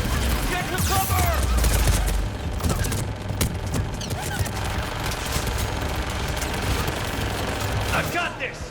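Dense gunfire in combat in the video game Mass Effect 3, rapid automatic bursts and shots layered continuously over loud battle noise, with voices shouting amid the firing.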